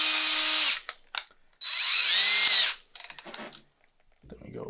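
A power drill bores small holes in wood for DIY shoe shelves, with two loud high whining bursts separated by brief pauses, followed by clattering handling noises and a low rumble at the end.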